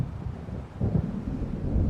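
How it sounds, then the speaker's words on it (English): Distant thunder from an approaching storm in the Alan Wake video game, a low rumbling swell mixed with wind and water ambience, growing slightly louder partway through. "It seems there's a storm coming."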